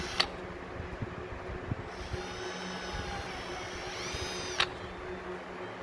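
A power drill bores holes through a mount on a rolled Polaris Ranger XP 1000 Northstar, its electric motor whining steadily for a couple of seconds between faint clicks, over a low constant hum.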